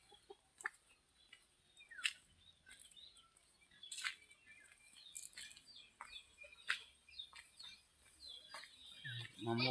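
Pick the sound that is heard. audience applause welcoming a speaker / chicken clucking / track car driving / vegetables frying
chicken clucking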